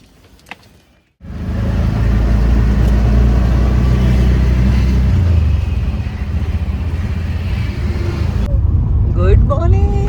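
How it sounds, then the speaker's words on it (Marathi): Auto-rickshaw ride through traffic, starting from a building gate: a steady, loud, close engine drone with road rumble kicks in after a brief quiet moment and runs continuously, with some higher chirping near the end. "मी आता इथून रिक्षाने जाते."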